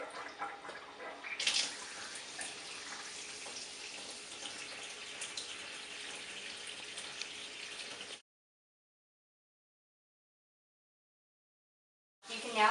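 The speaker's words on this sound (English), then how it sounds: "Turn on the faucet and allow it to flow at a medium flow." A kitchen faucet runs at a medium flow into a sink, a steady close hiss of splashing water that starts with a brief surge, continues for about eight seconds, then cuts off to silence before a short burst returns.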